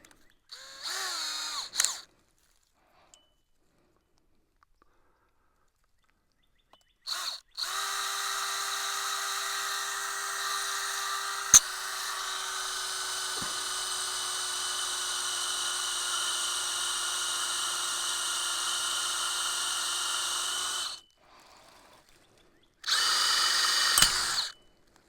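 A power drill with a Harbor Freight drill bit bores into old steel gas pipe being built into a pig fence, with a brief burst, then a long steady high whine for about thirteen seconds, and another short burst at the end, loud and close.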